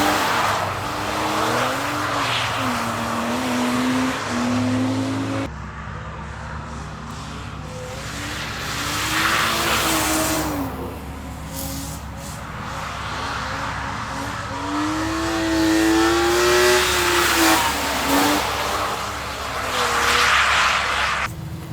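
A car drifting for the first time gives steady engine drone with rising and falling revs while tires squeal and skid loudly in long sweeps, without speech.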